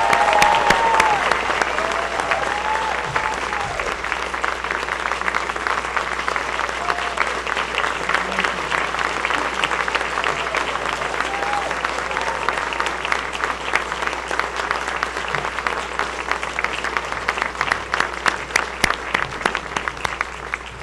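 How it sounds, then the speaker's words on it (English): A school auditorium audience gives a long round of applause for National Junior Honor Society inductees, steady dense clapping sustained for about twenty seconds with a few voices faintly underneath. "So one more round of applause for our inductees tonight."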